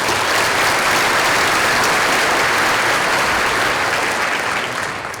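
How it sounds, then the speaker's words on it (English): Sustained audience applause from a large crowd at a school district keynote event, dense and steady throughout before tapering slightly at the end. "Let's give them another round of applause"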